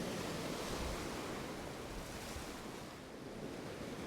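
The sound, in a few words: ocean waves washing over rocks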